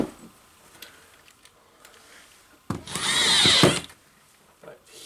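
Power drill driving a screw into drywall for a patch repair, one loud close whirring burst of about a second after faint handling clicks, with a person talking briefly.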